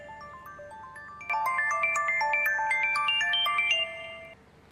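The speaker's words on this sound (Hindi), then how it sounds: "फोन आ रहा है सर अब्बास का तुम्हारे फोन पर" A mobile phone ringtone plays a bright electronic melody of rising and falling tones, starting softly and then growing louder and fuller before cutting off, with no voices over it.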